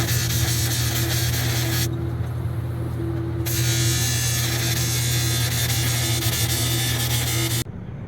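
Die grinder milling out cracks in metal on a Jeep part, a steady high-pitched whine running continuously and close, with a brief change in tone partway through and no talking.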